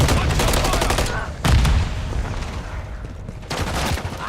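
A grenade blast in Call of Duty Modern Warfare 3 erupts amid heavy in-game gunfire, loud and close, with several sharp bursts and booming impacts over about four seconds.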